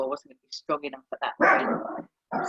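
A dog barks a few times nearby, the sharp barks overlapping someone speaking.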